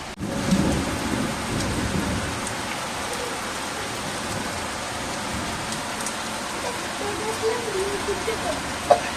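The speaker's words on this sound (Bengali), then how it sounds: "ভেবেছিলাম বৃষ্টিই হবে না, দেখো বন্ধুরা বৃষ্টি নেমেছে।" Steady heavy rain pours down with rumbling thunder during a monsoon storm, a continuous loud wash of falling water with low rolls of thunder throughout.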